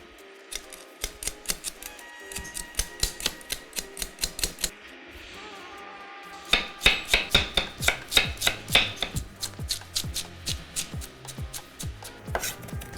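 A knife chops ginger finely on a cutting board in bursts of quick, steady strokes, close and crisp, with a brief pause partway through.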